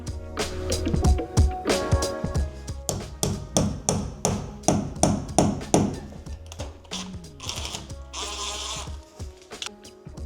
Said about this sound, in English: what we're going to do is push this in with a hammer